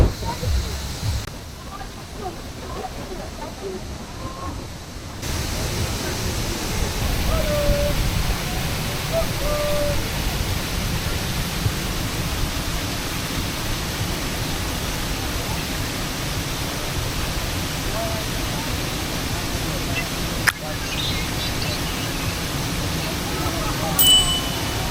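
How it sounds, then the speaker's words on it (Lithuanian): Manavgat waterfall in Turkey roars as a constant broad rushing wash, loud and unbroken throughout, with faint chirps and a brief click midway. "Tokie mažas Niagaros krioklys."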